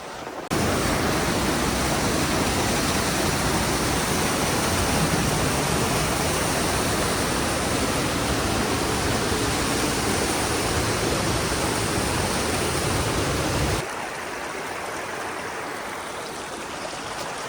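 Kanarra Falls rushes in a Utah slot canyon, a loud, dense, unbroken roar of falling water heard close by. Near the end it drops abruptly to a quieter, more distant wash of water.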